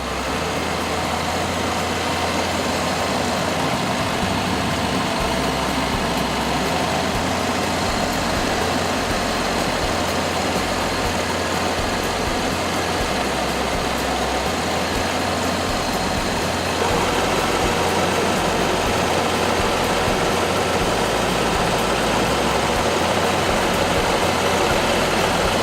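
A 1985 Cadillac Eldorado's 4.1-liter V8 idles steadily, a continuous low rumble with an even throb that holds near and unchanged throughout, with no talk over it.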